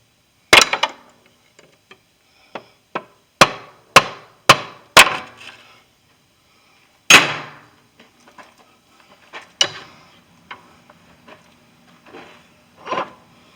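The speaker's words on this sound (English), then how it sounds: "I'm going to take my hammer and hit the end of it and jar that out of there" A hammer strikes the end of a BMW 328i CV axle shaft in sharp, loud metallic-wooden knocks. The blows come singly and in quick runs of three or four, with pauses between and small clatters in the gaps.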